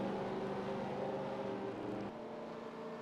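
Race cars in an NNSCRA series race circle an oval track at Iowa, a continuous distant engine drone with a slight shift in pitch partway through.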